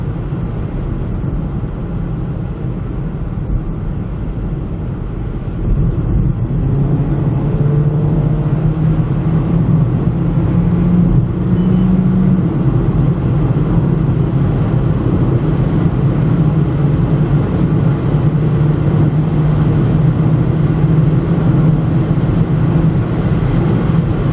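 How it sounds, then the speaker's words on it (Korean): Steady broadband road and tire roar from a Kia Niro cruising, a continuous loud drone with low engine hum underneath that swells slightly after the first few seconds and holds constant. "타이어 소음이 문제죠. 타이어 소음이 지금."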